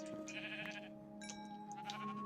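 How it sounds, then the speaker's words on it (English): A sheep bleats up close in a long, wavering, nasal call, with a second bleat overlapping shortly after, clear and fairly loud. "There's a sheep."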